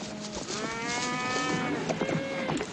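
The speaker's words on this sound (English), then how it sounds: "Cattle will be glad to get a drink." Range cattle in a herd low and moo repeatedly near a creek crossing, several overlapping drawn-out calls filling the whole stretch with no talking.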